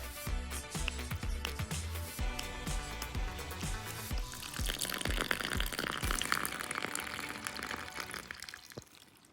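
Water trickling and pouring into a freshly re-dug pond that had a bad leak, a close, fairly quiet stream of splashing and dripping that builds to a steadier gush toward the end, with no talking.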